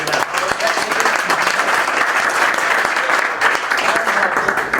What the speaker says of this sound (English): one more round of applause and make him feel all warm and fuzzy